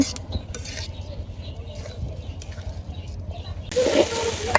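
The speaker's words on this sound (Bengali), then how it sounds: "চালগুলো খুব সুন্দর করে ভাজা ভাজা করে নিব" Broken rice is stirred and dry-fried in a pan, giving a close, continuous rustling hiss with faint scrapes that swells louder toward the end.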